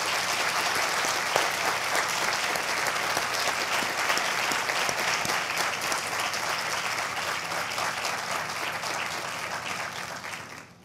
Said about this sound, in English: I'd like to start, if we could, with a round of applause for Connor and his family and Sissy